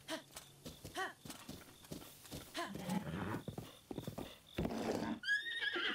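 In Breath of the Wild, a horse snorts and whinnies while its hooves clip-clop in uneven bursts, close and clear, ending with a sharp high-pitched game chime.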